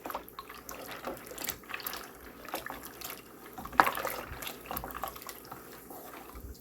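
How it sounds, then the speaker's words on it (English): Elbow macaroni cooking in a pot of water nearing a boil gets stirred, giving faint watery swishing with a single louder clink of a spoon on the pot, close but quiet. "I like to stir the macaroni."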